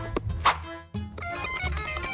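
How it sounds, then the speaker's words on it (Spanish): A telephone ringtone plays twice, a bright tonal jingle that pauses briefly and restarts, loud and close with no voices over it. "Ese sonido te lo tiene en un teléfono."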